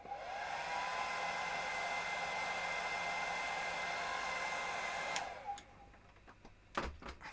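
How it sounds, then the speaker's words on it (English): A hair dryer blows hot air onto a freshly painted tabletop miniature, a steady loud whine and rush that runs for about five seconds, then cuts off, leaving faint handling clicks and knocks. "Right, let's get the hairdryer on it."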